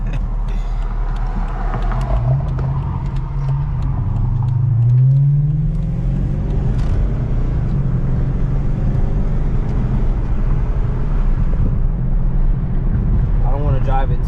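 Engine of a 2006 Dodge Charger with a misfire problem, heard from inside while driving, rumbling with a rising rev and shifting drone, some creaks, and voices talking over it.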